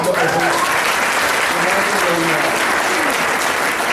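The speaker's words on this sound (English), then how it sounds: "please, another round of applause for this" Audience applause at a Muslim community council gathering: loud, sustained clapping from a large crowd, a continuous dense wash with voices faintly mixed in underneath.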